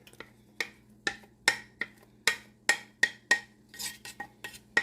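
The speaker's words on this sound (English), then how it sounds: "I'm going to throw in a medium chopped onion" Chopped onion going into ground beef browning in a pot, with a spoon striking and scraping the pot in sharp, close clinks at an irregular pace, each followed by a brief soft sizzle.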